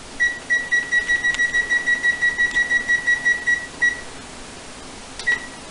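A kitchen timer set while steeping oatmeal stout brewing grain beeps in a rapid run of about fifteen even, shrill pulses, then stops, with one more short beep near the end; nearby and clear over faint room hum.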